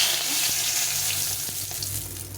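A dried red chilli crackles in hot mustard oil, a continuous loud, close sizzle with a couple of sharp pops and no speech over it.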